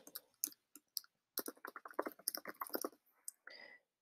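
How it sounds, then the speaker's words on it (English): A computer keyboard is typed on up close, with a quick irregular run of crisp clicking keystrokes in short bursts, quiet and without talk. "I'm gonna type Facebook page."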